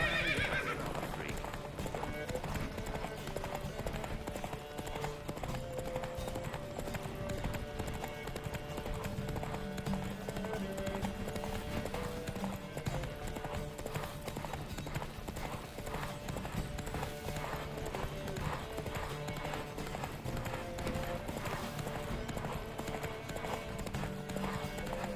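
Horses gallop in a race in The Witcher 3, with rapid steady hoofbeats clattering throughout and a brief whinny near the start, set over a game music bed with faint voices.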